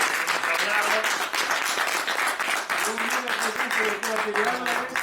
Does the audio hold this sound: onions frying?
no